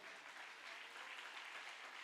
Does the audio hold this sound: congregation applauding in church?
yes